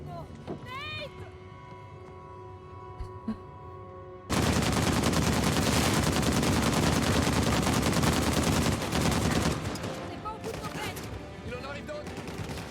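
Dense, rapid gunfire from the Uncharted 4 video game erupts suddenly and loudly after a few seconds of quieter game ambience, holding steady as sustained automatic bursts before thinning toward the end.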